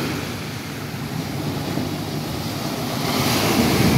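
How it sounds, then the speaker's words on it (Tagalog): Steady roar of rough summer surf washing onto the shore, mixed with wind rumble, swelling louder toward the end. "Ayan na yung alon na naman, oh."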